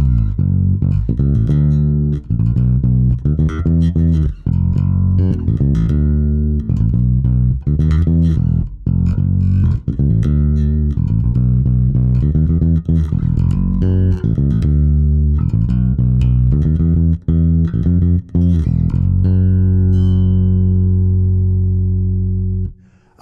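A bass guitar plays through an EBS HD360 amp head with drive set for mild mid-range grit, a steady loud run of plucked notes with a low, full tone ending on a ringing sustained note.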